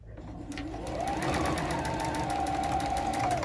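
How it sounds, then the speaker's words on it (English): A sewing machine stitches elastic into a fabric face mask, spinning up after a brief start and then running in a steady, close, humming stream of rapid needle strokes with a rising whine, with no voices. "as your machine is going, the needle's going in and out"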